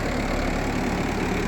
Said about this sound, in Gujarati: જોન્ડિયર મહિન્દ્રાને ખેંચીને લઈ જાય છે